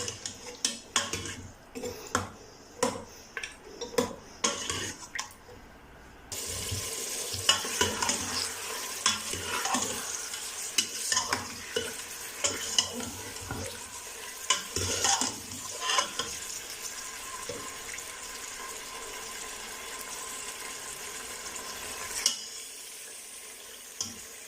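Mutton for nihari fries in hot oil while a utensil scrapes and stirs against the pot, first in sharp separate strokes, then under a steady close sizzle with intermittent clinks and scrapes.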